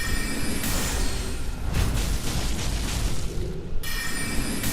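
A shard spiral sorcery is cast in Elden Ring, a loud, steady rushing, drilling roar that swells in and holds for about three seconds over a constant game background before falling away.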